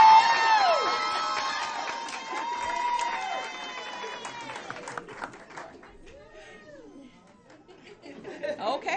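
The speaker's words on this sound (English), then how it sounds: "we're going to give them one more round of applause for 2 years of hard work" Crowd at a school board meeting honoring the proud class of 22 staff with applause, a dense clapping swell that fades midway, then lighter scattered claps and chatter returning near the end.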